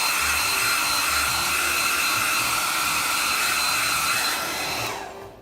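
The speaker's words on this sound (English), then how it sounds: "I don't like to use a hairdryer, but just for the demonstration." Hairdryer blowing on scale model decals, a steady loud whirring hiss with a high whine that holds for several seconds and then cuts off, with no talking.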